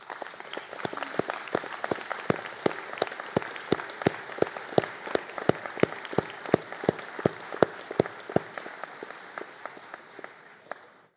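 A seated graduation audience gives a steady round of applause for bachelor's engineering and civil engineering graduates, individual claps distinct and evenly spaced, moderately close and continuing for about eleven seconds without talk.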